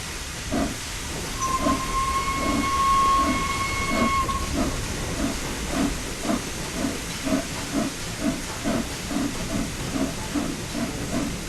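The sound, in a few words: steam locomotive hissing and running in video game Train Sim World 4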